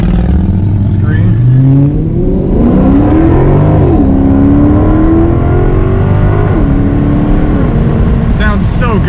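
A car pulls away hard from a green traffic light, its loud, close engine revving up through rising pitch with audible gear changes as it accelerates, while a person speaks over the engine noise.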